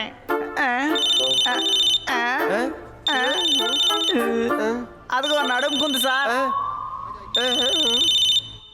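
A cartoonish telephone rings in repeated bursts, with a voice speaking between and over the rings.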